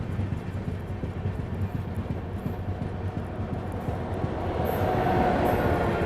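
Swaraj Express superfast train from Bandra to Katra rolling past, a steady low rumble with rapid rhythmic clacking of wheels over rail joints, growing louder and closer toward the end.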